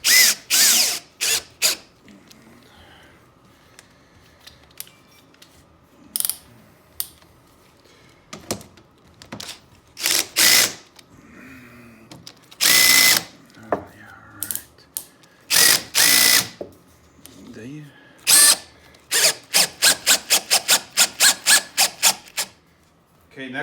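A power drill drives bolts into a HMWPE underbelly skid plate on a 2019 Can-Am Outlander Max XT, in loud, short whirring bursts that repeat and speed up toward the end, separated by quiet gaps and handling noises.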